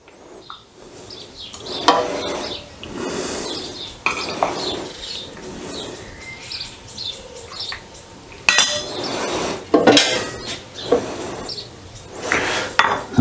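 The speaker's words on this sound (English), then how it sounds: "What we're going to do is fill the jar with our hot cordial." Hot cordial poured through a funnel into a glass canning jar, with repeated clinks of glass and metal, splashing bursts and handling clatter close by, irregular across the clip and no speech.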